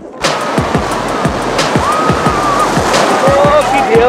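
Sea waves at Digha beach, a rushing surf roar with repeated thumping wave hits, loud and close, while people talk over it.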